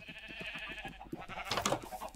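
Sheep in a video game bleat in a quick, faint series of short wavering cries, with a soft clatter of game noise rising toward the end.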